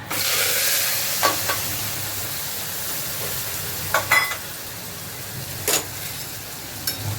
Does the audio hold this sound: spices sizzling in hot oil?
yes